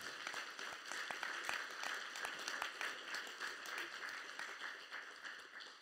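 Audience applause for the speakers at an afternoon devotional program, a steady, moderately distant patter of many hands clapping throughout, with no talking over it.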